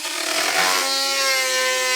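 A Ferrex rotary tool with a drill bit whines at high speed, its pitch steady with strong harmonics as the bit grinds against material, close and loud.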